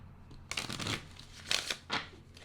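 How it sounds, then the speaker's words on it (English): A deck of cards being shuffled and cut during a tarot-style card reading, heard as three short, close riffling bursts against a quiet room. "Shuffle once, cut twice"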